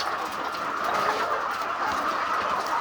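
A poultry farm shed holding about 20,000 laying hens gives a dense, continuous murmur of many chickens clucking at once, an even crowd sound with no single bird standing out and no voices.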